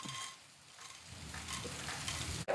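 Dried red chilies, a bay leaf and chickpeas roasting in hot oil in a pan give a steady low sizzle, with a brief stir and a scrape near the end.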